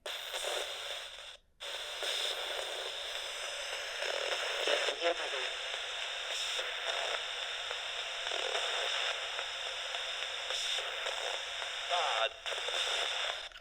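Spirit box radio sweep in a haunted hotel room, a steady wash of hissing white-noise static that runs almost continuously, briefly cutting out twice, with faint garbled fragments inside the hiss.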